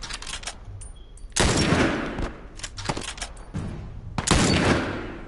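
Gunfire in The Last of Us Part 2 comes as close, loud bursts of rapid shots, with two heavy volleys and scattered single cracks between them.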